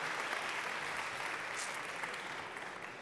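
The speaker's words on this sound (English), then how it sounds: "A round of applause," Awards ceremony audience applause, a dense, even wash of many hands clapping at once, sustained for a few seconds and fading slightly toward the end.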